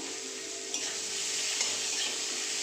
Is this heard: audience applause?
no